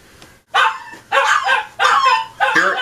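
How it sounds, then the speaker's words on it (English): Pet dogs at home bark loudly and close by in four sharp bursts with short pauses between, with a faint whimper before the first bark. "Here, let's meet our dogs."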